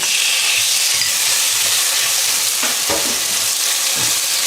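New York steak beef frying with ginger in hot cooking oil, a loud, dense, continuous sizzle up close with a few faint stirring scrapes, no talking.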